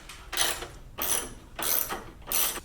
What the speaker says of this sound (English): a ratchet and socket work best